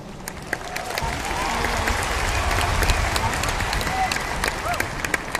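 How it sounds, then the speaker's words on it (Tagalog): Sustained audience applause fills a hall at a company's ninth-year anniversary celebration, a dense, even roar of many hands clapping with a faint murmur of the crowd underneath. "Maraming salamat sa inyong palakpak."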